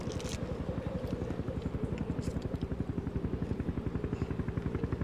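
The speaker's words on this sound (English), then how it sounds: "Do you hear that? What? Helicopter." A helicopter flying over an ice cave area in the mountains, its steady rotor chop thudding in an even rapid rhythm that runs loud and continuous throughout.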